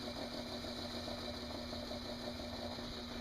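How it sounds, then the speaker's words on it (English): Homemade arrow cresting machine driven by an old sewing machine motor with rubber hose and rollers spinning a shaft, giving a steady close motor hum and whir throughout with no pauses. "This is something we put together ourselves, which is basically just an old sewing machine motor with a piece of rubber hose and some rollers that just rotate the shaft."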